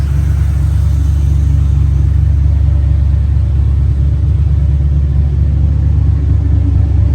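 A 1978 Chevrolet K5 Blazer 2WD with an Edelbrock carburetor runs steadily, its engine a loud, constant low rumble close by, with no speech over it.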